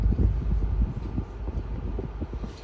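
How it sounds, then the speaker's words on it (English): Air conditioning fan in a 2024 Acura RDX SUV, a steady blowing hiss with a low rumble underneath, close and even throughout and with no voices. "Turn the AC up."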